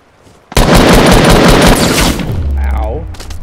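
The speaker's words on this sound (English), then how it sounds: "I'm getting sniped." Loud, close gunfire in a video game begins abruptly with a sharp shot and rolls into a sustained volley, then tails off into a lower rumble.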